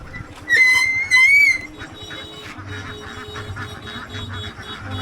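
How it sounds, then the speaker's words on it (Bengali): Ducks at a rural duck farm give a couple of loud, honking quacks close by, followed by softer scattered quacking and background hubbub. "এখানে অনেকগুলো হাঁস রয়েছে"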